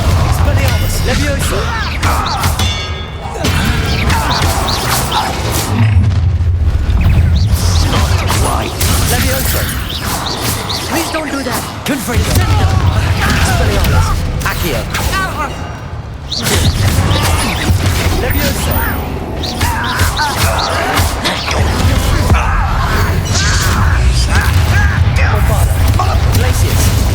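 Spells cast in the Hogwarts Legacy video game, with Confringo fire explosions among them, burst and rumble loudly through an ongoing fight, with a voice talking over much of the action.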